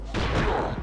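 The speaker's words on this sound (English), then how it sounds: "The vaporizer! This can shoot through enemies." The vaporizer weapon firing in Ratchet and Clank: Going Commando, a single sudden loud blast with a broad crackling burst that rings briefly and fades, close and alone.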